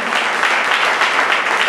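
Brief burst of steady audience clapping at a song-contest award ceremony, full and even, with no voices over it.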